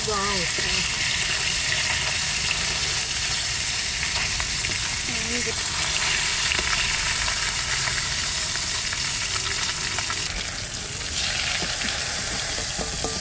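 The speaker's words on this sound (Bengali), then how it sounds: "সেই একবারে তেলেই সব মাছ ভাজা হয়ে গেল।" Damodar river fish fry in oil in a wok with a loud, continuous hissing sizzle close by, while a voice speaks faintly underneath at times.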